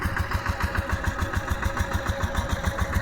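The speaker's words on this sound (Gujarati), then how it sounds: "હા જો ટ્રેક્ટર આવે છે આપણું, જોઈ લો" A farm tractor engine runs steadily nearby with a loud, regular low chugging beat, holding at the same level for the whole stretch rather than clearly rising as it approaches.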